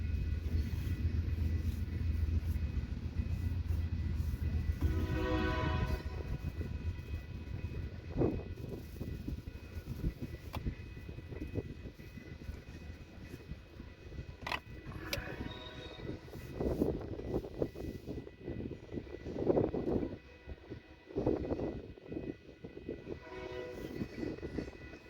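Union Pacific eastbound freight train approaching on the Transcon main line, its rumble building and fading while several loud horn blasts ring out, with a westbound train passing nearby.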